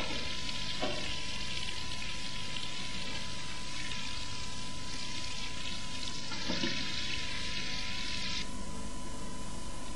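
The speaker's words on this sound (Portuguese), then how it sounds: "fatia de presunto, que será passada ligeiramente na gordura, pelos dois lados" A ham slice sizzles lightly in fat in a pan while making Portuguese steak, a constant frying crackle with a few soft pops and no talking.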